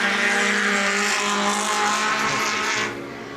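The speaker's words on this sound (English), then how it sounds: "That was Regan Swenson in the big yellow car, all the way from Makarau, Auckland" A big yellow off-road short course race car roars past at the national off-road finals in Auckland, New Zealand. The engine is loud and close for nearly three seconds, then fades quickly as it moves away.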